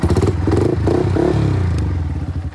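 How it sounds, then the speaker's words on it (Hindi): Yamaha R15M sport bike with an aftermarket exhaust, idling in neutral while the throttle is blipped, giving a loud close engine note that rises in quick revs over a steady rumble, with no talking. "जैसे मैंने थ्रॉटल ब्लिप करा ना"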